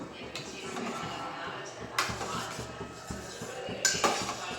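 Spoon scraping and clinking against a pot while stirring a boiling beetroot juice soap mixture, with irregular knocks and a few sharper clanks, under quiet background noise.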